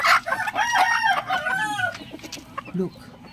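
Chickens on a small farm, a pure Texas bird and a golden one, cluck and call in a busy run of close, repeated vocalizations, with a rooster-like crow woven through and a short lower call near the end.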